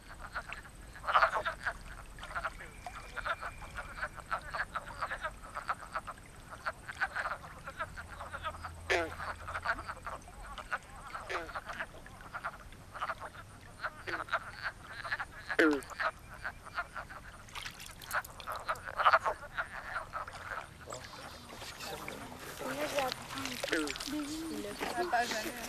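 Frogs croak outdoors during a search by nature-study students, a continuous chorus of close, scratchy calls with voices mixed in.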